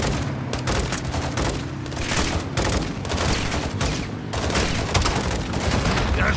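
Sustained gunfire from the video game Call of Duty: Modern Warfare II, loud and dense throughout, with rapid machine gun bursts and heavy booming shots layered over a constant battle din.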